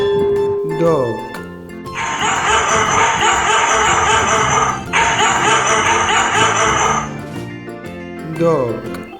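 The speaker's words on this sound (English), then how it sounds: "dog" A dog gives sustained, fairly loud barking and yelping in two long bursts, with a voice speaking briefly before and after.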